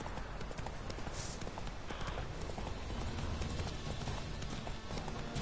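Steady rhythmic hoofbeats of a horse galloping in The Witcher 3, a continuous loud clip-clop running the whole way through over a dense bed of outdoor game ambience.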